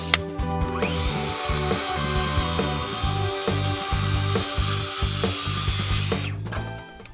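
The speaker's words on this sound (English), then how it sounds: "So I'm going to cut the rail at 2 foot 5 inches." A power tool cuts through old wooden rail pieces for a garden bench, a loud continuous whining cut with a rhythmic chattering pulse, close up and alone until it winds down at the end.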